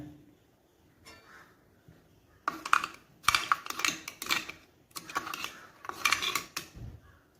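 Black tea being shaken in a mixie jar as part of a homemade natural hair dye, heard as bursts of clattering, sloshing rattles in several irregular shakes, close and fairly loud, with quiet gaps between and no talking.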